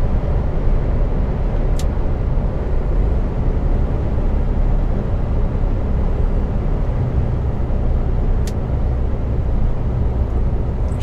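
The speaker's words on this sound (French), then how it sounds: "Je sais pas si vous entendez le moteur du camion derrière." A truck engine runs with a steady, loud low rumble and continuous road noise at night on a highway near a toll plaza, with no voices.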